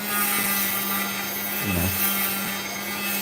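A Dremel rotary tool grinding opal, a steady close whine with a constant motor tone and a gritty abrasive rasp that dips briefly in pitch as the bit meets the stone.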